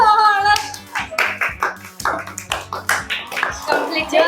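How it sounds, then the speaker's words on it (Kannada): A small family group claps during a fun family challenge, with sharp, irregular bursts of hand claps over ongoing voices, several people talking and exclaiming close by. "ಜೋರಾಗಿ ಚಪ್ಪಾಳೆ."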